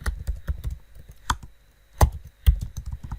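Keys on a computer keyboard clatter in quick uneven bursts, with a few heavier strokes standing out, close and clear with no voices.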